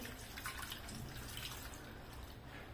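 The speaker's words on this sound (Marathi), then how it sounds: "वरून थंड पाणी टाकून घ्यायचं." Cold water poured over soaked soybean chunks in a sieve, a steady broadband splash and trickle that runs without pause, fairly quiet and close, with no talk.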